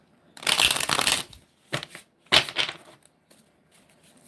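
Numerology affirmation cards shuffled in three bursts, a long riffling run followed by two shorter ones, close and crisp with no talking.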